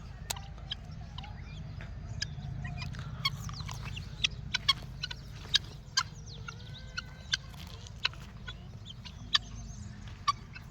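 Chickens and roosters cluck in a village yard, a scatter of short, sharp calls at moderate distance over a steady low background hum, with no talking.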